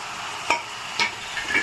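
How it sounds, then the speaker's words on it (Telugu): Carrot, capsicum and potato stirred in a pan over a low, steady sizzle, with three or four short scraping strokes spaced about half a second apart, close and moderately loud. "ఇప్పుడు ఇందులోకి క్యారెట్, క్యాప్సికమ్, ఆలు వేసుకుందాము"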